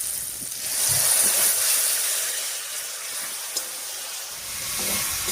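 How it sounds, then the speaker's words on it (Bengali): Water poured into a spice paste cooking in a pan for a drumstick (sajne data) curry, giving a steady broad hiss and sizzle that swells and eases over several seconds, heard alone. "এবার একটু জল দিয়ে কষিয়ে নিচ্ছি।"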